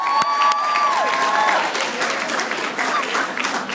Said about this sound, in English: Please give my wife a wonderful round of applause.